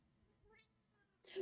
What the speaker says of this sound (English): hearing cat sounds in the background